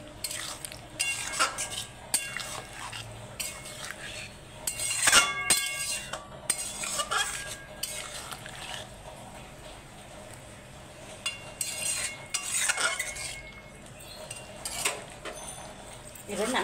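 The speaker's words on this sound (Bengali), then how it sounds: "এবার আমি নেড়ে চেড়ে নামিয়ে নেব।" A spoon stirs pumpkin curry with dried fenugreek leaves in a pan, giving repeated light clinks and scrapes against the metal in short bursts, fairly close, with no talk.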